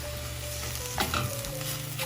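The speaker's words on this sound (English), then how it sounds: "I'm going to stir the onion inside of this." Onions are stirred into bulgogi beef frying in a pan, a close steady sizzle with a few scraping stirs of the utensil, quiet and without talk.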